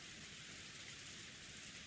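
Heavy steady rain from the Umineko visual novel, a dense continuous hiss of rainfall heard from indoors during a typhoon, loud and unbroken with a low rumbling undertone and no voices.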